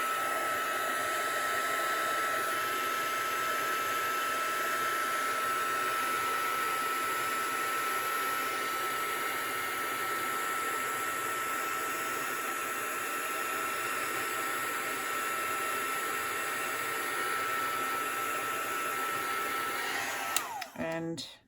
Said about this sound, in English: And then what we will do is we will just heat gun it.